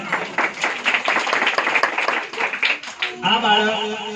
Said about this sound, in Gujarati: આપણે તાળીઓથી વધાવીએ એ બાળકોને